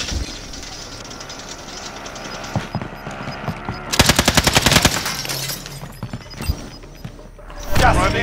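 Rapid bursts of automatic gunfire from an enemy vehicle in the video game Warzone, loud and close, with a steady vehicle rumble and a game voice underneath.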